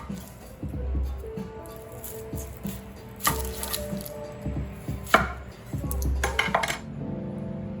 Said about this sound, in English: That means mincing the onion, cutting up the zucchini, celery, and garlic.